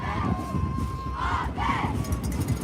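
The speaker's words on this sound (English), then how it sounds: "The Pope John crowd working into a lather here." Home crowd cheering for Pope John at a New Jersey tournament high school football game against St. John Vianney, a steady roar of voices with rising swells of shouting throughout.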